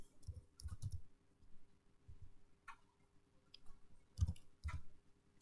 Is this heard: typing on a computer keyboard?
yes